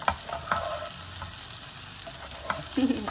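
Potato pieces fry in a pan with garlic and chili powder, giving a dense, steady sizzle close up, with occasional stirring scrapes and no talk.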